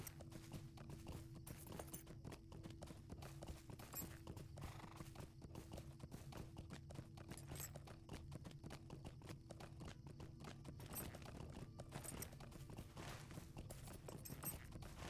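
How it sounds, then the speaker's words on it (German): A horse in Lord of the Rings Online rides cross-country with a steady, even clip-clop of hooves throughout, a faint whinny in the mix, all at low volume. "wir reiten jetzt einmal mal querfeld ein"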